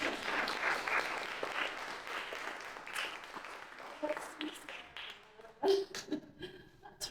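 Applause at a book launch for an author's BC Island Animal Dream Book, with a small gathering clapping warmly at first, then thinning into scattered claps, light laughter and murmured talk.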